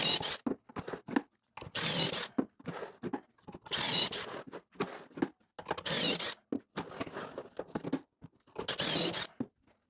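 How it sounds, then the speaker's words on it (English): Power drill boring pocket holes into a wooden bookcase shelf, heard as four or five loud bursts of drilling about two seconds apart, each a second or so long, with quieter handling noises and clatter in between. "The first thing I do is drill 5 pocket holes on the B side of it"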